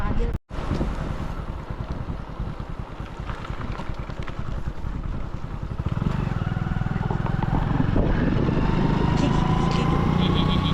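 A motorcycle engine drones steadily with heavy wind buffeting, as if heard while riding; the engine grows louder and rougher in the second half.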